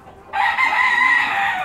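A fighting rooster crows once, loud and close, a single sustained call that starts abruptly and holds steady to the end.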